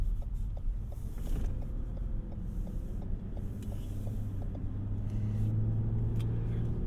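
Engine start in a 2015 Lexus GS350 F Sport, a low rumble settling into a steady idle hum while a quick series of small evenly spaced mechanical ticks and a faint whir come from the driver's seat bolsters adjusting.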